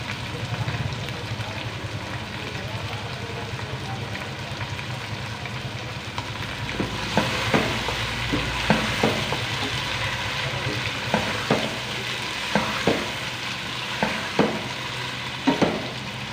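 Tomatoes with salt sizzle in a hot pan, a steady frying hiss with a spatula scraping and clacking against the pan in repeated strokes during the second half.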